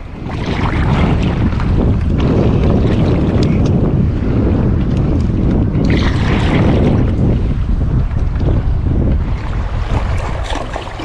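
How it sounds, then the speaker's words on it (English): Strong wind roaring across the microphone during a small boat crossing between islands, loud and continuous with engine and water rush beneath, no talking. "A bit of a wind blowing, and we can see the current here."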